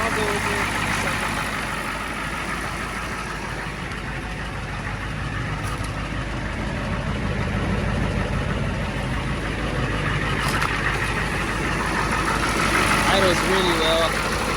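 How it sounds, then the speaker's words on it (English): An old Ford 6.9 IDI diesel engine idles steadily with a low, even rumble and a faint diesel rattle, close by and continuous. "Idles really well. I'm super happy with this thing."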